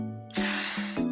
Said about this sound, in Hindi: इसके ऊपर ऐसे पानी स्प्रे करते हैं